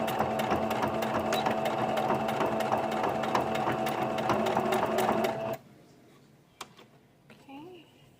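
A domestic sewing machine stitches around the edge of a fat quarter tote bag, a close, rapid, steady rattling whir lasting about five and a half seconds before stopping, with a few handling clicks and a voice afterward.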